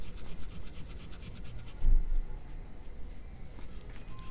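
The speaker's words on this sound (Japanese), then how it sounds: "今度は、木の当て木で、これはサンドペーパーは240番です" Abalone inlay on a guitar fingerboard is rubbed down with 240-grit sandpaper wrapped around a wooden block, giving soft, rhythmic back-and-forth scraping strokes, faint and close, with a brief knock partway through.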